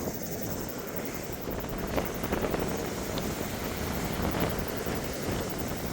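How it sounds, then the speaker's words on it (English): Strong wind buffets the microphone on an outdoor dog walk, a steady loud roar with gusty rumbling that fills the whole stretch, with no talk. "is clearly going to be one of our windy episodes"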